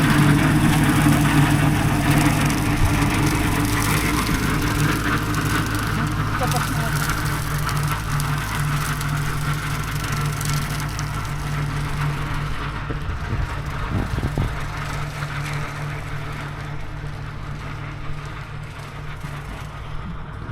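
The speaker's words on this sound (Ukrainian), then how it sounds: "Косит травичку тракторець." Small tractor engine mowing grass in rural Galicia, northern Spain, a steady droning hum with a low rumble that runs continuously throughout at moderate distance, with faint talk over it.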